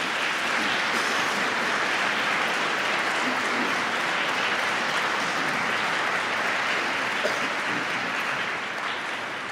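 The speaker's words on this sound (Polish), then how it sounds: "Wielkie brawa dla wykonawców" Steady, full applause from a concert audience honoring the performers of a requiem, dense clapping that holds at an even level for the whole stretch, with no voices rising above it.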